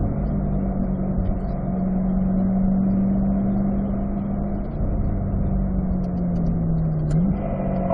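A car on a race track coming into a turn, steady engine drone with a pitch that holds then drops and dips near the end as it brakes and shifts down, continuous and fairly loud throughout.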